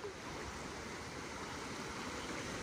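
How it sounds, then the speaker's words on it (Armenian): Ocean surf rolling in at the shore near a seaside restaurant, a steady broadband wash of breaking waves with low rumble, continuous and fairly distant, no voices. "Էկան, էկան, էկան ալիքները"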